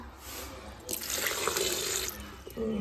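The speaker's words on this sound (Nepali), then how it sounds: "अलिकति पानी हाल्छु, बेसी होइन।" A short stream of water is poured into a vessel, a close splashing gush lasting about a second before a quieter trickle.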